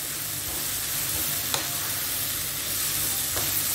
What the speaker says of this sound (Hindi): पहले बंद गोभी को 1 से 2 मिनट के लिए हम लोग फ्राई करेंगे